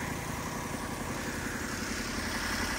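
Maruti Grand Vitara engine running with the bonnet open, a steady close hum with a fine rapid mechanical texture at a constant level, with no talking.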